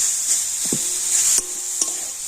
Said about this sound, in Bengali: আর এখন আমি কন্টিনিউ নাড়াচাড়া করে একটা সুন্দর পুট তৈরি করে নেব আর এইভাবে নাড়াচাড়া করে তো গুড়টা কিন্তু খুব সুন্দরভাবে গলে যাবে